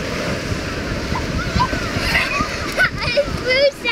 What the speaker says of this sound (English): I threw sand in the water.